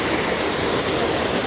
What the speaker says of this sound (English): That waterfall